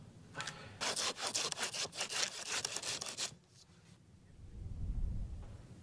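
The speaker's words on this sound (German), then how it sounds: "und dann sägen wir jetzt erstmal" A hand saw cuts through wooden logs in quick, rhythmic back-and-forth strokes, close and loud for about three seconds, then the sawing stops and a quieter rustling follows.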